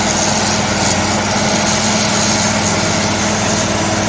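Sawmill engine running steadily while a saw cuts through a log on a farm, a loud continuous mechanical drone with no pauses or speech.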